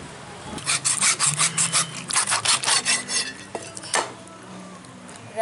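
A knife rasping rhythmically through stingray flesh on a board, with a quick series of close, scraping strokes and a pause before a final cut.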